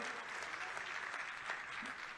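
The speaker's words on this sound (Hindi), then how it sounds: "एक बार तालियों से आप लोग भी स्वागत करें" A crowd applauds steadily at a traders' convention, a dense patter of clapping sustained at even volume throughout.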